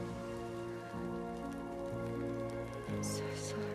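Steady rain hisses through the Death Stranding 2 game world, a dense, even wash of drops sitting beneath sustained musical tones for the whole stretch.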